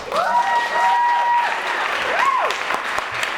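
Audience applause at a screening event honoring the trailblazers of the LA Rebellion film movement, a steady wash of clapping held throughout while tonal voices or whistles slide through near the start and middle.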